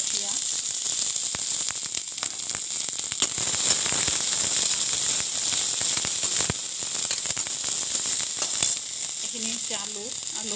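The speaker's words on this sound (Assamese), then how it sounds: "তেল গৰম হ'ব দিছো, জিৰা দিলো আৰু এতিয়া মই পিঁয়াজ কুচি দিম।" Chopped onion hitting hot oil with cumin seeds sizzles loud and steady, with frying hiss and crackle throughout and a few brief stirring clinks, close up and without speech.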